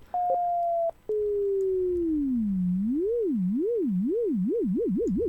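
Ableton Operator FM synth producing a pure tone that steps, glides downward, then wobbles in a vibrato that grows steadily faster, a low-frequency modulation sweep heard clean with no other sound.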